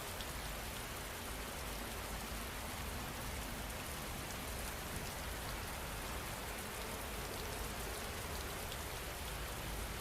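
Steady rain falling, a dense even hiss of drops on surfaces that holds constant throughout, with no voices or other sounds.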